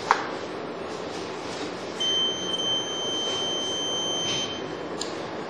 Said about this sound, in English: demonstrate a fire system alarm